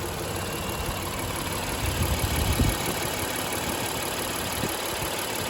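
Honda Odyssey minivan engine fitted with a performance air filter, running as a steady low rumble that swells briefly in the middle, heard alone without talk.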